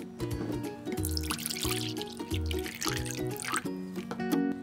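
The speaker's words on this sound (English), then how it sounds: "I'm gonna pour some of this red." Red liquid Jell-O is poured in a kitchen, giving a soft trickling, splashing flow under steady background music.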